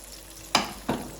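Chicken pieces frying in ghee over a low flame, giving two brief soft sizzling swells as pieces are pressed or turned, over a faint steady background.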